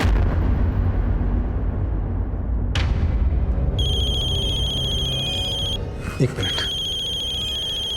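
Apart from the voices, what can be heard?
telephone ringing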